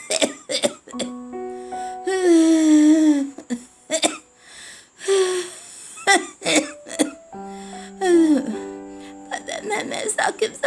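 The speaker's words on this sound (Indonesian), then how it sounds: "nenek yang sudah tua dan sering sakit-sakitan mulai batuk-batuk" An elderly woman coughs in several harsh bursts, with strained vocal sounds between fits, close and fairly loud.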